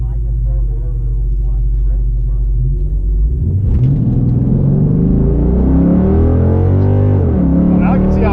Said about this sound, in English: I just like doing burnouts.